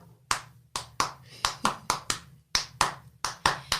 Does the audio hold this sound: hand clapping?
yes